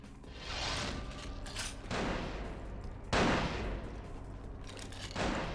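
Gunshots in Vampire: The Masquerade Bloodlines, with three or four loud, sharp reports spaced about a second apart, each trailing off into a noisy tail.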